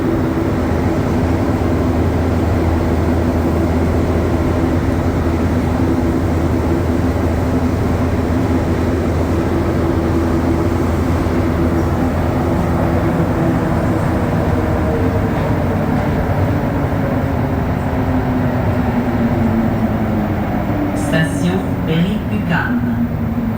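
A Montreal metro Orange Line train runs downhill through a tunnel, giving a steady, loud rumble and rail roar throughout, with brief screeching clatter near the end.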